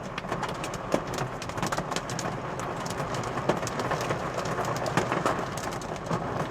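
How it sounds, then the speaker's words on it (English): Pea-sized hail pattering densely on a roof during a storm in Delavan, Wisconsin, a continuous crackling rattle with occasional sharper, louder impacts, heard indoors with no talking. "There's some bigger ones I hear hitting the roof now."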